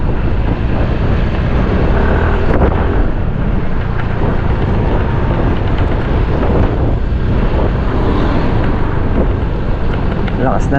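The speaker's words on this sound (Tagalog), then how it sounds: "Lakas na naman yung hangin." Strong gusty wind buffets the microphone out in open farm fields, a continuous heavy low rumble and roar that never lets up.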